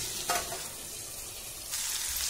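Masala okra with tomatoes frying in a pan, giving a continuous close hiss of sizzling with a brief stir near the start and a louder surge of sizzle toward the end, no voices.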